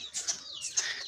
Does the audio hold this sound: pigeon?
yes